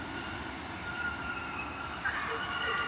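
A Class 155 diesel multiple unit pulls out of Selby station, its steady engine drone and faint rail noise carrying from a moderate distance with a soft squeal near the end.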